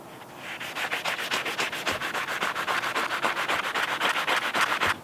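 Steady back-and-forth strokes of sandpaper on a block rub across metal by hand, a close, even rasping rhythm of roughly four strokes per second with no talking.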